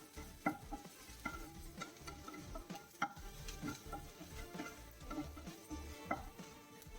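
Ginger, garlic and curry leaves sauté in hot oil over a medium flame, a steady close sizzle broken by repeated scraping stirs of a spatula in the pan, with no talking.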